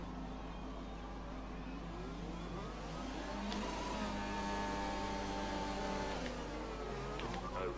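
Formula 1 car engine in the F1 2020 racing game revving hard with wheelspin on the French circuit formation lap, a steady loud whine rising and falling in pitch over a constant low hum.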